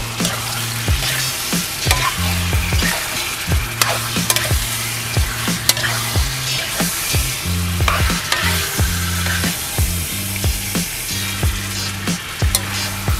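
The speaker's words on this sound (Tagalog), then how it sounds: "igigisa mo lang to or parang prito na din" Chicken pieces sauté in a pan for chicken caldereta, with a constant loud sizzle and a rhythmic scraping of a spoon stirring and turning the meat throughout.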